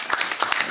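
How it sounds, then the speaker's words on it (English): Scattered applause from a community board meeting audience, a short burst of several hands clapping unevenly in a room, fairly quiet. "Let's give him a round of applause one more time."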